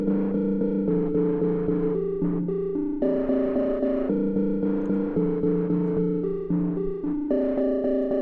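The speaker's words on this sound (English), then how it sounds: "one of my favorite features of Megaverb is the gated reverb." Goodhertz Megaverb gated reverb on a sustained, chord-like tone, each note leaving a dense, noisy afterimage that cuts off abruptly in steady, loud pulses with no pauses.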